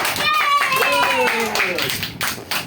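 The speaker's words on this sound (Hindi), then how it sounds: "आप सब लोग कैसे करके तालियां बजाओगे?" A group at an Indian quiz game claps in a quick run of sharp hand claps, while a high voice speaks over the clapping near the start.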